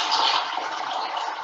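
Rinse water from washed lentils (dal) pours off in a steady splashing stream, close and moderately loud, continuous and alone with no talk.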